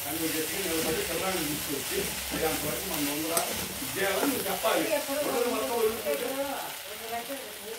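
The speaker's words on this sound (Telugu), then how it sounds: "బెండకాయలు కోసి సన్నగా ఫ్రై చేస్తున్నానండి" Thinly sliced okra fries and sizzles in a pan with steady hiss and occasional stirring scrapes, close and continuous, while someone talks over the cooking throughout.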